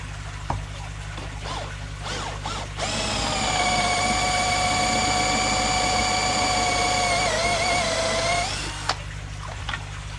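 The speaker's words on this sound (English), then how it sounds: "seeing me go mad drilling holes everywhere" A power drill bores holes for aquarium bench lighting, a loud sustained high whine for about six seconds after some lighter handling noises, then stopping abruptly, close by over a steady low hum.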